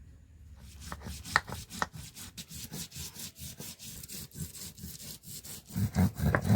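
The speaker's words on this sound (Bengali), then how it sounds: "2 রকমের সর্ষে নিয়েছি, পোস্ত আর কাঁচা লঙ্কা দিয়ে ভালো করে একটা মিহি পেস্ট করে নেব" Two kinds of mustard seed, poppy seeds and green chillies being ground into a fine paste, heard as a steady run of close, rhythmic scraping and rubbing strokes that grow heavier toward the end, with no talking.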